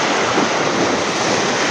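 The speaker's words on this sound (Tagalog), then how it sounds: "Ang lakas ng alon, no?" Strong waves at Talim Island, Binangonan, Rizal, crash in a dense, loud, continuous wash of surf mixed with wind noise, with no voices.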